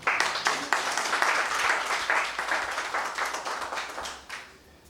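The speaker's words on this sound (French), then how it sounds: "Je souhaite que vous applaudissiez vous-même." An audience at a school ceremony applauds, a dense clatter of many hands clapping that stays steady, then thins and fades toward the end, with no talking over it.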